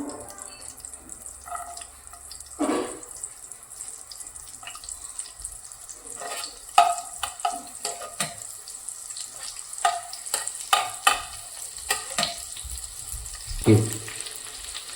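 Chopped garlic frying in melted butter in a kadai for kadai paneer, a soft sizzle with wet crackles and scattered clinks of a spoon, sparse at first and then busier, close and quiet with no talking.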